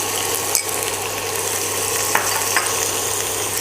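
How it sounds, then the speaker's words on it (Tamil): Chopped onions, lightly salted, sizzle steadily in a hot pan for a South Indian moong dal curry; the close, even frying hiss is broken by a few sharp clicks of stirring. "இப்போ இந்த வெங்காயம் வந்து நல்லா கோல்டன் ப்ரௌனாக ஃப்ரை ஆகணும்."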